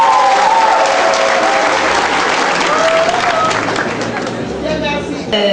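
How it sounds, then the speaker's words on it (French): A church congregation at a thanksgiving mass applauds, dense continuous clapping from a large crowd with murmuring voices mixed in, loud and sustained throughout. "Vous applaudissez timidement comme ça."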